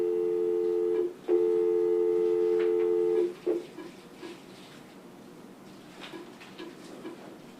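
Telephone call ringing through to a voice message system: two long steady ring tones with a short gap, then a click and quieter line noise with faint sounds.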